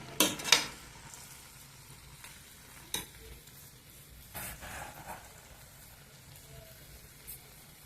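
Stirring moth bean curry with coriander in a pan: soft scraping spoon strokes and light clinks over a faint sizzle, with a few sharper scrapes near the start, close up and quiet, no talking.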